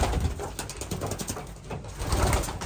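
Racing pigeons in a loft coo and rustle continuously, several birds at once, close and fairly loud with soft murmuring calls overlapping throughout.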